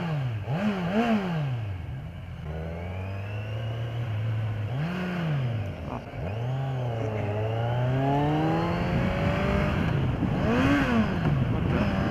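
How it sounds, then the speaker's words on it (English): A 2015 Kawasaki Z1000 motorcycle engine runs loud and close throughout, its pitch rising and falling as the throttle is blipped and the revs climb, with steady road and wind rush underneath. "You can just tell there's a ton of power in this bike, especially when you give it a little bit of throttle and the way it sounds."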